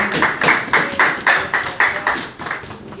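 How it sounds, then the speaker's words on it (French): A church congregation claps together in a steady rhythm of sharp, evenly spaced bursts, loud and close, with no voices over it. "Applaudissez la parole de Dieu."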